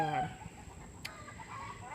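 Chickens cluck and squawk excitedly at a moderate distance, several bursts of agitated calls with a sharp click partway through.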